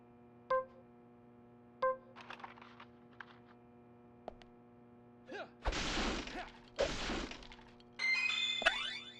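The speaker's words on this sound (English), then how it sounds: "I wonder if you push these into other crates, if they'll both break." Wooden crates get shoved into each other in Deadly Premonition, a few sharp thunks at first, then louder crunching crash bursts and a final clattering hit over a steady game hum.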